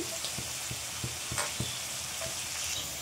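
Chopped green chillies frying in hot oil for mutton chowmein, a steady close sizzle with soft bubbling and a few light stirring taps, no voices.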